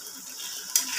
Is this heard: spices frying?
yes